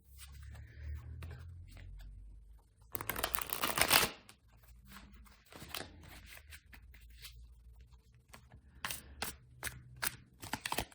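Soft riffling and tapping of tarot cards being shuffled, with one louder flurry of rapid flicks midway, then scattered light card taps.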